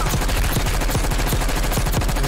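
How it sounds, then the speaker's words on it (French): Rapid, continuous automatic fire from an XM4 rifle in a Call of Duty match, with loud evenly spaced shots ringing out for the whole stretch and no voices over it. "tire dessus Sky, tire dessus, tire dessus"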